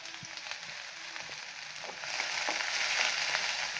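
Onions drop into hot oil for a radish chutney, and a steady crackling sizzle grows louder partway through as the frying picks up.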